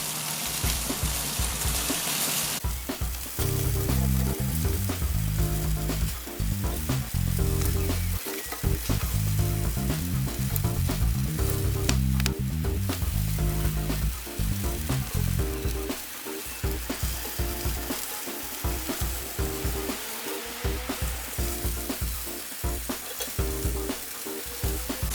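Chicken thighs sizzle steadily on a grill for about 25 seconds while they are flipped and basted, giving a loud, continuous frying hiss broken by occasional scrapes and shifts. No one speaks.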